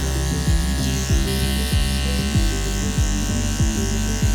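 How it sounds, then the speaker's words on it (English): An electric hair clipper buzzes steadily while it cuts hair in a salon, using a pivoting stroke to soften a line in a structured layered haircut. Its close, even hum carries short repeated dips as the blade moves through the hair. "we're gonna use the clipper on a pivot point to really help soften that line"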